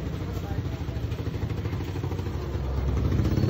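Tricycle engine, a motorcycle with a sidecar, idling steadily at a market stall area in Magdalena, a low chugging rumble that swells slightly louder toward the end amid street clatter.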